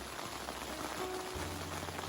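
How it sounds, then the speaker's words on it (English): Steady rain falling in a mountain wilderness, a dense continuous hiss of drops close by that holds even and fairly quiet throughout. "I don't know if you can hear that rain kind of picking up and starting already."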